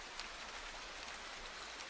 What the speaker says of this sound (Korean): 나무집 위로 툭툭 떨어지는 빗방울 소리에 귀를 기울여 보십시오.